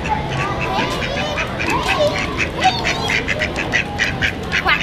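Several ducks quack repeatedly in a noisy, overlapping chorus, close by, with some talking mixed underneath.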